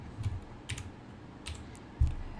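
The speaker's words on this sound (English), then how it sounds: "And then we're going to type init." Code being typed on a computer keyboard: a few sparse, close keystrokes in short clusters, ending in one sharper, louder key press, with no talking.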